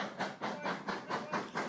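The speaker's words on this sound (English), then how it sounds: "The engine on this train is Lytham Manor, built by British Railways in December 1950 and withdrawn from service 15 years later." Lytham Manor, a British Railways steam locomotive built in 1950, hauls a train on the Paignton to Dartmouth line, its exhaust chuffing in a quick, even rhythm of about seven beats, moderately distant.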